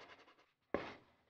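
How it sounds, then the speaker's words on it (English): A sanding block is rubbed over raised paper burrs on a high-power rocket's altimeter bay, giving several quick, soft scratchy strokes, a brief pause, then one firmer, longer rasp. "Just sand down the parts where it pops up."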